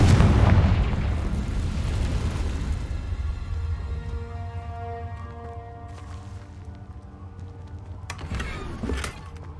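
Confringo fire spell blast in the Hogwarts Legacy video game, a loud booming explosion at the start that rolls and decays over several seconds, followed by a fainter crackling burst near the end.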